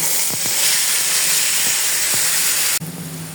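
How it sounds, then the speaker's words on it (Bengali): Small kachki fish fry in hot oil, a loud bright sizzle with a few light clicks, which cuts off abruptly near the end, with no voices. "এই কাচকি মাছগুলোকে ভাজবো।"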